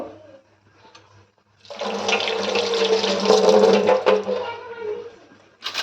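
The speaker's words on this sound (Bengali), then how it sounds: "গাছের লেবু না ধুলেও চলে তারপর ধুয়ে নেওয়া ভালো" Tap water runs in a steady, loud splashing stream over a home-grown lemon being washed, starting after a quiet moment and continuing for several seconds before stopping.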